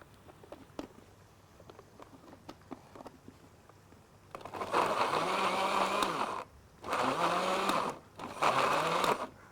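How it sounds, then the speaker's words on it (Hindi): An electric blender purees tomatoes for achar gosht, running in three loud whirring bursts of a couple of seconds each with short pauses between, after a quieter stretch of small knocks and clicks. "आप हर थोड़ी देर के बाद मशीन को इस तरह से चलाएं ताकि अच्छी तरह से टमाटर जो है वो आपका ब्लेंड हो जाए"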